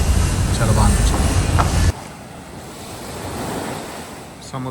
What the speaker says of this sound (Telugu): సముద్రం ఎన్నిసార్లు చూసినా కూడా తనే తీరకుండా అందులో ఇలా నీట్గా క్లీన్గా ప్రశాంతంగా పొంగుతుండే సముద్రాన్ని చూస్తే